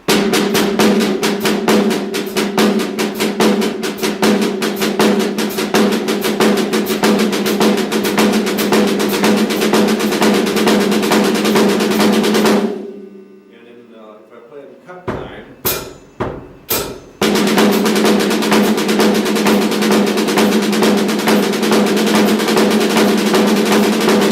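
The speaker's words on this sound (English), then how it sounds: "it's a paradiddle with the accent on the last note of the paradiddle instead of the first note" Rapid, steady paradiddle drum strokes accented on the last note play loudly, break off into a short near-silent gap with a few sharp hits, then resume at full volume.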